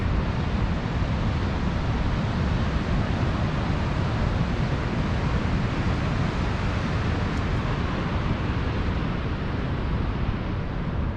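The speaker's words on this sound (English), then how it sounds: "The waves are coming in so gentle." Gentle ocean waves rolling in at the Twelve Apostles on the Victorian coast, a steady broadband wash of surf mixed with wind buffeting the microphone, continuous and fairly loud with no voices.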